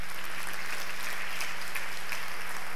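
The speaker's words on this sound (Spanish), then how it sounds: "Aplauda hasta que le duelan las manos." A congregation claps together during a church service, producing a steady wash of applause that holds at moderate loudness for a few seconds, with a faint low hum underneath.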